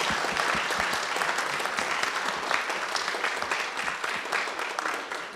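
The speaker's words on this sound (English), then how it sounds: "Let's give them all a round of applause" Audience applause at a member spotlight gathering, steady dense clapping from a room full of people, held at full strength throughout.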